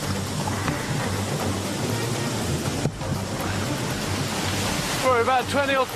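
A waterfall pours off a steep cliff into water below, giving a continuous dense roar of rushing water, loud and close, with a brief splashy burble near the end.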